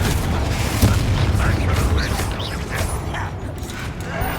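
Confringo fire-blast spell cast in the video game Hogwarts Legacy, a dense roaring rumble with a sharp thump early on, sustained and loud throughout without speech.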